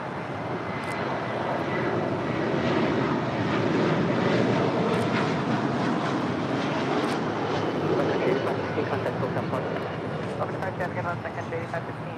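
Airliner departing runway 25 Left at LAX: a steady, broad jet engine roar heard from a distance, sustained throughout, with a voice talking over it.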